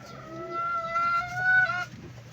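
A gamefowl hen, one of the old breeding birds, gives a short drawn-out clucking call close by, tonal and slightly rising, alone with no talk.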